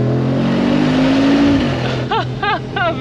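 A 2023 Mercedes-Benz G63 AMG with a 585 hp V8 and side exhaust pipes accelerates on the autobahn near a bridge, giving a deep, loud, rising engine drone that fades off after a second and a half, followed by someone talking.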